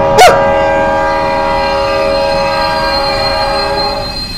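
Train in a Japanese ghost train video game, with a brief loud horn blast at the start followed by a steady drawn-out tonal hum of the train running, fading slightly at the end.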